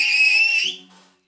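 Whistle made by blowing across a chocolate wrapper, one shrill sustained note that drops in pitch near the end, then fades into a softer, lower tail.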